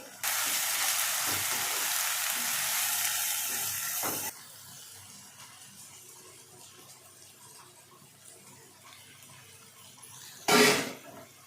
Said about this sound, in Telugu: మసాలా అంతా ఎర్రగా వేగింది.